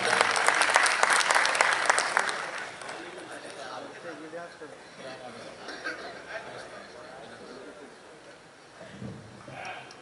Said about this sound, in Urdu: آپ زوردار تالیوں میں اس حیدرآباد سے آنے والے شاعر کا، ہمارے پہلے مہمان شاعر کا زوردار استقبال فرمائیں